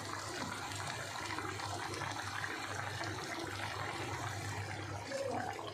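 A parshe fish curry in spicy mustard sauce simmers in a covered pan, giving a steady, close, soft bubbling hiss that runs evenly without pause and with no voices.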